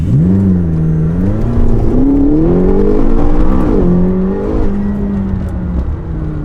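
A McLaren GT sports car engine revs up under hard acceleration after turbo lag, its pitch climbing steadily, then easing off and holding a lower drone; loud and close.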